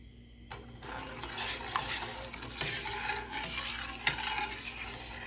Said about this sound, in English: I'm going to add 1/4 cup of sugar. And we're going to stir that up nicely.